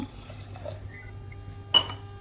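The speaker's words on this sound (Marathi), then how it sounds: "परतून झाल्यावर दोन ग्लास पाणी टाकले आहे" Two glasses of water poured into a cooking pot of sautéed rice masala, a short liquid splash and fill followed by a brief metallic clink.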